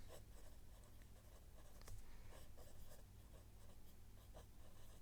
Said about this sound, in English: First page, I'll just write up here.